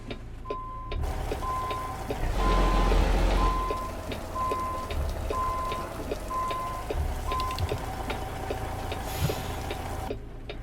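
Rain pattering steadily on a truck in American Truck Simulator, a dense hiss under an evenly repeating reversing beep and engine hum, with a louder surge partway through.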